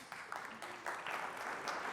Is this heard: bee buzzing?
no